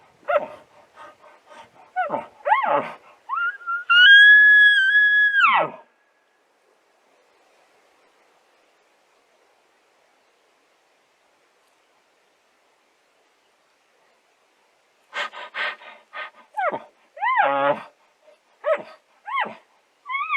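A human voice imitates a dog's huffs, grunts and whines in a few short bursts, including one sustained whine. The sounds are close and clear, with a long silent gap before a final run of quick back-and-forth noises.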